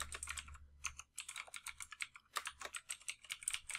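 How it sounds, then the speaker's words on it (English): Rapid clicking of keys on a computer keyboard as a name is typed in, a quiet, close, steady patter of keystrokes with brief pauses and no talking. "Here, we're going to go ahead and type in the name"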